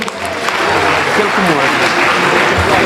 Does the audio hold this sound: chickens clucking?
no